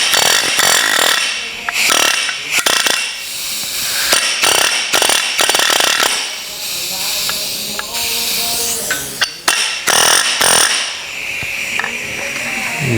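A handheld pneumatic planishing hammer, a homemade slapper-spoon tool, runs in loud bursts of rapid rattling air-driven hammering with short gaps between them, harsh and close throughout.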